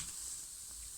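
A lentil-stuffed pancake, a puran poli, cooks on a hot pan after being turned over, with a faint, steady sizzling hiss throughout and no talking.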